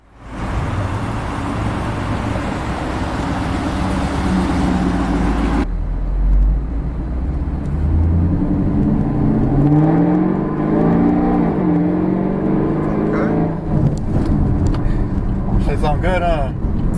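Supercharged 2013 Chevrolet Camaro ZL1 engine, a loud, continuous roar that builds as the car accelerates, heard from inside with people talking over it.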